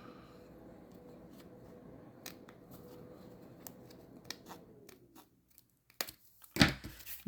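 Scissors snip the corner of a paper tag in a papercraft project: a few quiet crisp cuts and rustles, close up, ending in a louder cluster of sharp snips.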